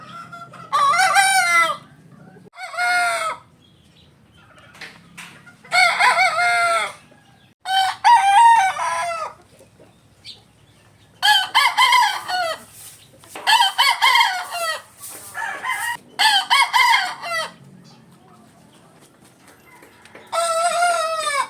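Young roosters (stags) in a flypen crow and cluck repeatedly, loud, close bursts of crowing separated by brief pauses, with no talking.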